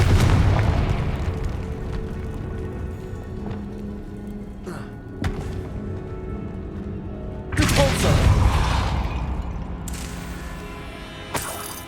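A Confringo fire-blast spell explodes in the PS5 game Hogwarts Legacy, a loud booming burst over dense battle noise, with a second sharp blast near the end and a voice speaking under the din.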